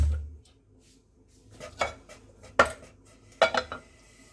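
A metal kadai is set on a home gas stove for tempering saag, giving a few sharp clanks and rattles of cookware at irregular intervals, close and clear in a quiet kitchen.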